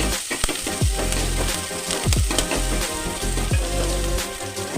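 Chopped onion, green chili and dried chili fry loudly in oil in a pan for a bitter gourd curry, a dense close crackle and sizzle broken by repeated scraping strokes of a utensil.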